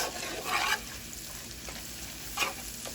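Garlic frying in a pan while being stirred for fried cabbage, a soft steady sizzle with a couple of brief scraping stirs, fairly quiet and close, no talking.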